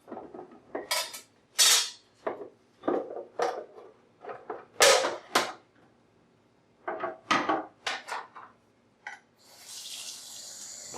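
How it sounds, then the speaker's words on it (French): Wittenborg 9100 coffee machine drip tray and grille being washed in a sink: close clatter of plastic parts knocking against the basin in irregular bursts, ending with running tap water. "Nettoyez le bac de récupération des liquides et sa grille en utilisant de l'eau chaude et un savon doux."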